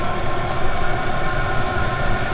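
A diesel heater burning fuel inside its housing, with its fan running, gives a steady, loud, dense roar with an even rumble throughout and no voices.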